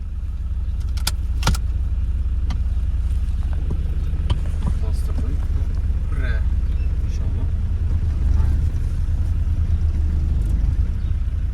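A Volkswagen Golf Mk2 pulls away on engine torque alone without throttle, heard from inside the car as a low, steady engine rumble with small rattles. Someone talks over it.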